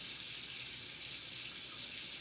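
Warm water running from a kitchen tap in a steady, even rush, close and fairly loud, with no voices over it.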